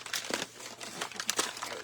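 Christmas wrapping paper crinkles and rustles in bursts while tape is pulled off it, loud close crumpling in uneven waves without any talking.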